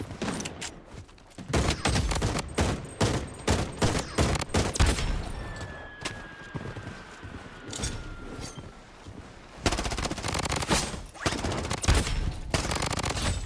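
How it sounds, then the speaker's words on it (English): Rapid bursts of automatic gunfire in the Blood Strike video game courtyard, loud and near, with dense volleys in the first seconds, a quieter middle stretch, then renewed sustained firing. "A bunch of gunfire as well."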